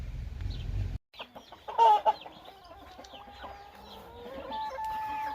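Chickens cluck in a short burst after a brief pause, with a steady murmur of farmyard fowl continuing at moderate volume, at a village yard with geese nearby.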